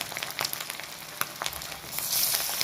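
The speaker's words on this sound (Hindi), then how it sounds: "तेल को हम अच्छे से गर्म कर लेंगे और मीडियम फ्लेम पे ही हम इसे तलेंगे" Aloo tikki potato patties fry in hot oil over a medium flame, giving a steady crackling sizzle with scattered sharp pops that thickens into a denser hiss near the end; no voices.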